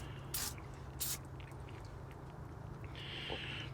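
Two short hissing bursts of gasket remover spray close by, followed later by a longer, quieter hiss over a steady low hum.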